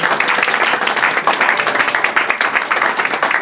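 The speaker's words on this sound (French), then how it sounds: "Applaudis pour toi" A church congregation applauds during a pastor's sermon, steady, loud, dense clapping from many hands that fills the whole stretch without pause.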